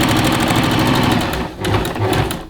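A sewing machine runs fast stitching the side seam of a top, a rapid steady mechanical whirr with a brief pause before a short second burst, close and loud.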